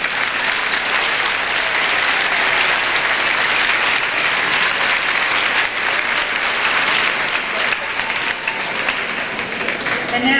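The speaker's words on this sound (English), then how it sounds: "Let's give our sixth graders a round of applause." At a school awards ceremony, a crowd applauds sixth graders with loud, dense, sustained clapping that carries on evenly for about ten seconds, tapering only slightly near the close.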